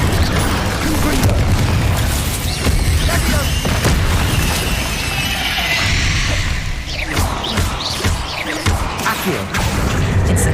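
Booming blasts and crashing bursts from the Confringo explosion spell in Hogwarts Legacy on PlayStation 5, loud and dense, with whooshes and overlapping game effects throughout.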